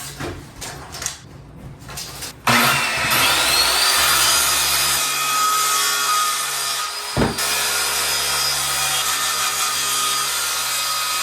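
Wood being cut with a saw during a house renovation, a steady rasping drone that sets in after a few seconds and runs loud and close, with a brief thump midway.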